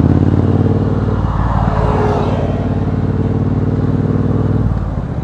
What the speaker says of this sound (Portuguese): é um cortador de grama.